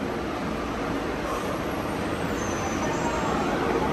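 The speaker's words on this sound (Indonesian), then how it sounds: "datang bis kita" A Shanghai BRT bus pulls into a stop, its steady engine rumble and road noise filling the scene, with faint higher hiss suggesting brakes as it arrives.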